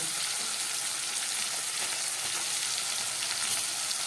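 Spiced amudi fish frying in oil with tomatoes just added, a steady dense sizzle that holds at the same level throughout, close and alone with no talking.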